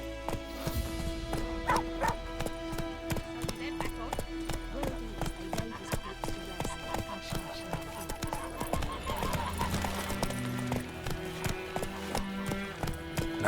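Geralt's horse Roach trotting in The Witcher 3, a steady clip-clop of hooves running throughout under a game music bed, with a voice speaking briefly over it.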